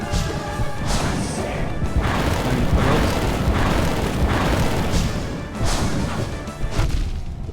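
Nightmare King Grimm's fire bat attack in Hollow Knight, a loud, dense run of whooshing, crashing fiery blasts and booms in quick succession, continuous and close with no talk.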